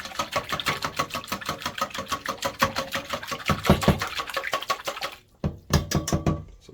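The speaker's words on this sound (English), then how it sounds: "Just trying to whisk away some of that lumps left from the cinnamon." A whisk beats cinnamon-flecked batter for rainbow bread in a bowl, making a fast steady run of rhythmic clinking strokes with a brief pause near the end before a few more strokes.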